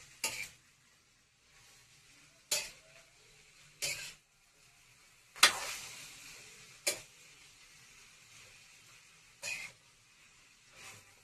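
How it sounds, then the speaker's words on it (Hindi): A spoon stirs potato and fenugreek sabzi in a pan, giving sharp scraping knocks at irregular intervals with quiet gaps between and a faint sizzle underneath. "इसको अच्छे से हम हिलाएंगे।"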